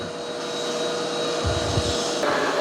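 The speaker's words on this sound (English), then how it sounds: "So it's vacuuming this and mopping this room." A Yeedi M14 robot vacuum vacuuming and mopping a room with a steady whirring motor hum, joined briefly by low bumping and scrubbing sounds midway, close and continuous without talk.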